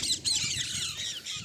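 Parrots squawk in a dense, continuous chorus while picking grain, with 2–3 sparrows among them; harsh, overlapping shrill calls fill the scene at close range with no talking.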